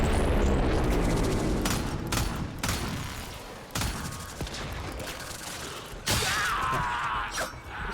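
Rapid bursts of gunfire from a gun in the video game Warframe, loud and close, with repeated booming shots and mechanical clatter, no talking over them.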